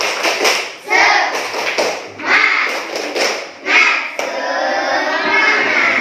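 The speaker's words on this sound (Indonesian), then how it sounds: "Tepuk semangat" A primary school class in Indonesia does a rhythmic spirit clap together, sharp patterned claps in quick bursts with children's voices chanting along, loud and close.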